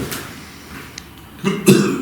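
A human voice imitates a cough with two short, rough bursts near the end, following quiet room tone.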